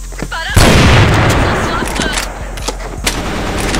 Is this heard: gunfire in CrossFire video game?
yes